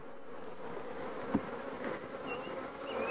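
A steady, dense buzz of many honeybees close by, a continuous droning hum with no voices.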